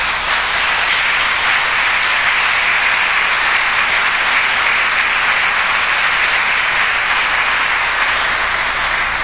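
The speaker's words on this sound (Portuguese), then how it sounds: "Dê um aplauso ao Senhor." Congregation applauding during a church service, a dense, steady wash of many hands clapping together at close range, continuous and loud throughout with no voices rising above it.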